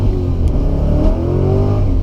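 An LS-swapped Mazda FD RX7 accelerates hard, its loud V8 engine note rising steadily in pitch over a couple of seconds, heard close from inside the car.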